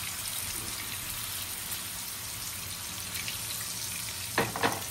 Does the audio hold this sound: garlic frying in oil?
yes